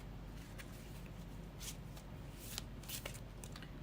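A deck of tarot cards is shuffled by hand, a soft continuous riffling with faint sharper flicks, quiet and close with no talking.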